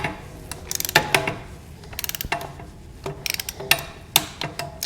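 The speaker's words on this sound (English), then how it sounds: "we set this torque wrench to 11 Newton meters and give it a little tighten." A torque wrench ratchets in quick bursts of sharp clicking while tightening the oil drain bolt on a BMW R1250GS motorcycle, close and clear with short pauses between strokes.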